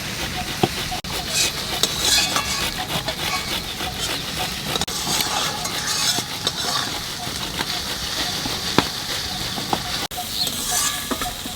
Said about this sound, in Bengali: আলুটা একটু ঘষে নেবো যাতে দানা দানা না থাকে।